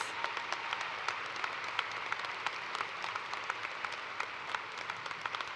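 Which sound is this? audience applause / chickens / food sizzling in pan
audience applause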